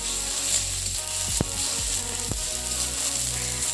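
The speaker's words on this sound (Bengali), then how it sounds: "পেঁয়াজ আর রসুন বাটাটাকে একটু গোল্ডেন ব্রাউন করে ভেজে নেব।" Onion and garlic paste sizzles in hot oil left from frying katla fish, a continuous bright hiss with a few sharp spatter pops and faint stirring thumps.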